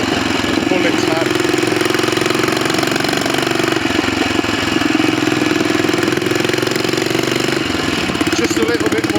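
A Royal Enfield 500 Bullet single-cylinder motorcycle engine with retarded inlet cam timing runs steadily nearby, a loud, continuous thumping drone with a rough mechanical rattle throughout.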